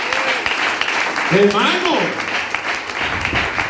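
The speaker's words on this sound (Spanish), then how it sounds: "denle ese aplauso a Él" A church congregation gives a steady round of applause that runs under a voice throughout. The clapping stays moderately loud and continuous while he keeps speaking over it.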